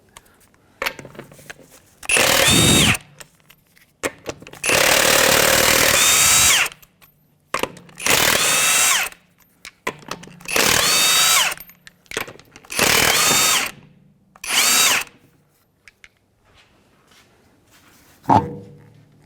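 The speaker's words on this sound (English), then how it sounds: "we're going to remove the wheel. We're going to use a 22mm socket." Impact wrench with a 22mm socket zipping lug nuts off the wheel of a 2011 Honda Odyssey, several loud whirring bursts of a few seconds each separated by pauses, close by with no talking.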